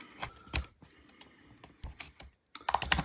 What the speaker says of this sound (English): Put our rear pins in.